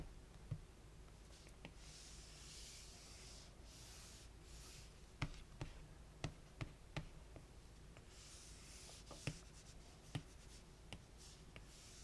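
A pencil scratches and an eraser rubs softly on paper while drawing a flower, faint and close, with occasional sharp taps and ticks scattered across long stretches of quiet scraping.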